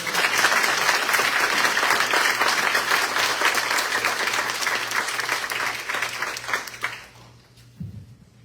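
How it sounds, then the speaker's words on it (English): Applause at a board of education meeting: a dense, steady round of clapping from the room that holds for several seconds, then fades out quickly, leaving a brief low thump near the end. "Let's give a round of applause."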